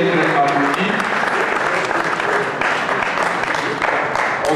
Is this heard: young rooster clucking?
no